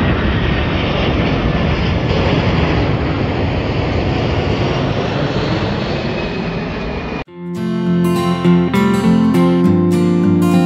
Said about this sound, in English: the British Airways Dreamliner is landing here for the first time ever